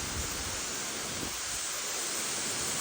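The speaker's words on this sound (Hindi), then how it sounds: "तो गाइस फाइनली मैं इस झरने तक आ चुका हूँ" Continuous broadband rush of a waterfall near Udaipur, Rajasthan, a steady, dense roar heard close with no voices.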